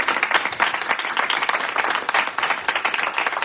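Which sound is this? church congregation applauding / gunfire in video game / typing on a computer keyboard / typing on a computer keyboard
church congregation applauding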